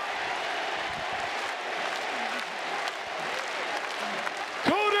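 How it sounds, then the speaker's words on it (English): A large crowd at a professional wrestling event cheers and applauds steadily, loud and continuous, with a commentator talking over it and a sharp tonal sound near the end. "Listen to this crowd."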